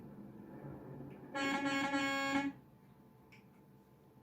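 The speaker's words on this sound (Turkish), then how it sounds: "İşte havalı kornası falan her şey var" A single loud truck air horn blast in Euro Truck Simulator 2 sounds for about a second amid quiet background hum, followed by a faint short beep.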